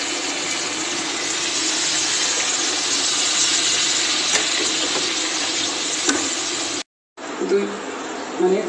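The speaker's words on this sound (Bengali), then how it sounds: "এবার জল ঢেলে দেবো।" Water goes into a pan of fried spice paste cooked with turmeric and salt for a Bengali chitol fish curry, giving a loud continuous sizzle and hiss that cuts off abruptly near the end before faint bubbling returns.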